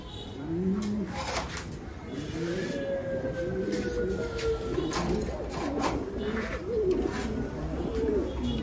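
Lahori pigeons at a pigeon farm coo in soft, repeated throaty rolls, several birds overlapping close by over a faint steady background hum, with no talking.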